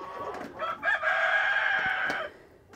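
A rooster crows once, a long sustained cock-a-doodle-doo close by, preceded by a few clucks from farm chickens, with no talking.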